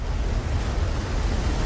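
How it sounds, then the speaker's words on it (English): A tsunami wave surging in and smashing through a bungalow: a dense, roaring wash of water, steady and loud throughout with no voices. "The tsunami rushes in, destroying the bungalow."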